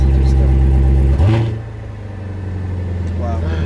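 A Corvette C7 Z06 with stock exhaust in sport mode gives a quick rev blip, then the engine settles back to a steady, close low idle rumble.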